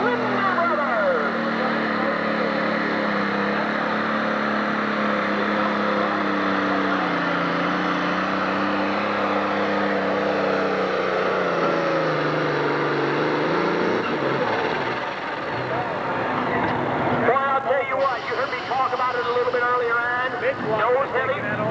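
A John Deere 4320 pull tractor at a 1997 National Tractor Pulling Association 10,000 lb Pro Stock event in Urbana, Ohio, roars steadily with its engine note sweeping upward. The engine stays loud and continuous, and a public-address announcer talks over it.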